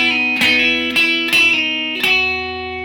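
Electric guitar fill on a Les Paul, played as a sound-alike of a song: a few quick picked notes with bright, sustained tone that rings out clearly on its own.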